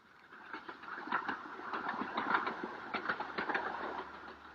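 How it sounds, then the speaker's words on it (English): A small 2-foot narrow-gauge steam engine on a mountain railway toward the Himalayan foothills chuffs in a quick, rhythmic series of puffs, heard from a moderate distance with a faint mechanical rattle beneath. "the little 2-foot gauge railway which puffs and grunts its way up towards the Himalayan foothills"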